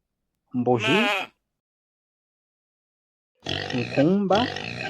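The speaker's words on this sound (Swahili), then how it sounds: "mbuzi," A domestic goat bleats nearby, first a single wavering cry and then, after a silence, a longer two-part bleat, loud and clear against a quiet background.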